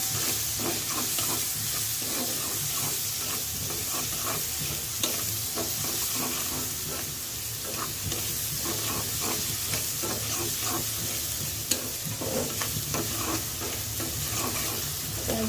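Onions with green chillies and tomato fry in a pan for a fish dopiaza, a continuous loud sizzle with repeated scraping stirs throughout and no voices.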